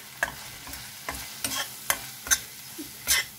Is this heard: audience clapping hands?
no